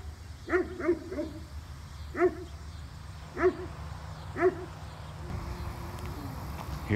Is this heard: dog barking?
yes